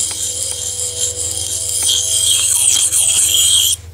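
A stainless steel knife blade rasps steadily across a wet, porous whetstone, a continuous close gritty scraping that grows slightly louder toward the end over a low background hum.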